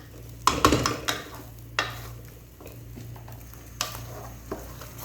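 A spoon stirs bread halwa in ghee in a pan, giving close scraping strokes and sharp metal clinks against a soft sizzle and a low steady hum.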